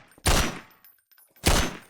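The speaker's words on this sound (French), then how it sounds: "Je vais montrer à quoi ressemble une explosion." Two sharp, heavy video game explosion blasts in Garry's Mod with RTX, about a second apart, each booming and then fading, with quiet in between.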